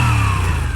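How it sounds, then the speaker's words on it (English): A Moto Guzzi custom motorcycle engine runs steadily with a low, throbbing exhaust note and a faint rising whine, loud and close throughout. "the sound of the exhaust"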